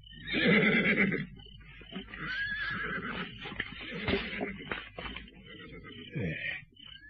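A horse neighs and whinnies loudly several times over about seven seconds, set in a dramatized historical drama scene, with faint hoof movement between calls.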